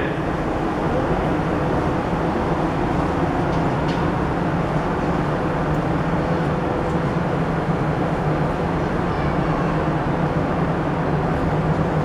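Berlin U-Bahn U2 train standing at Bismarckstraße station, a steady loud rumble and hum of the underground train and platform filling the whole stretch with no talk.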